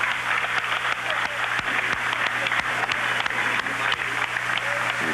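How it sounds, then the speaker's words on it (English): Sustained crowd applause from an audience in a high school gym on basketball senior night, dense steady clapping filling the space for several seconds at fairly loud level. "Let's give them a big round of applause"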